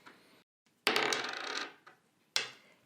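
Dice rolled during a Machi Koro board game: a sharp clatter as they land and tumble for about a second, then a brief rattle and a final click, close and alone.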